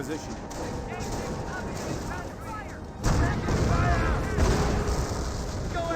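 Mortar half-track barrage in Company of Heroes, a World War II strategy game: dull booms and scattered shell impacts in the middle distance, with a louder burst of explosions and crackling battle noise in the second half, beneath commentary.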